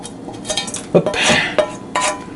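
A utensil scrapes and clinks against a pan while spilled sausage pizza filling is worked loose, a few short metallic scrapes and knocks close up, with no talk.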